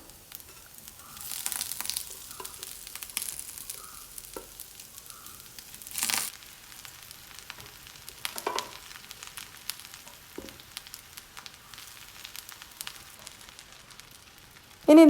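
Curry leaves sautéing in a pan, then cooked jackfruit tipped in, giving a low sizzle with soft crinkling and scraping, a few louder stirs and a sharp knock at the end; no voices.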